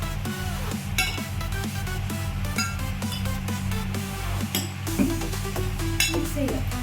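A spoon stirs tomato ketchup in a bowl for a simple Lays chips recipe, giving a steady run of scraping clinks against the dish over a constant low hum.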